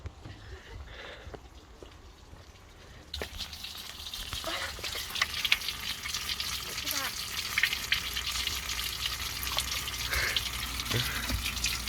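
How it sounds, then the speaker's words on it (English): Sparkling natural spring water near Koblenz, Germany, gushes and fizzes steadily from a spring outlet, close and continuous, growing louder after a quieter start with a soft bubbling hiss throughout. "the water actually comes out sparkling."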